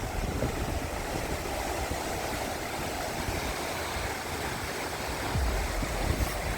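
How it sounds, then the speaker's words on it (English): Ocean surf at Welagama Beach, Sri Lanka: a continuous broad wash of waves and rushing water fills the scene, steady and fairly loud, swelling slightly near the end, with no voices. "And now the Welagama Beach."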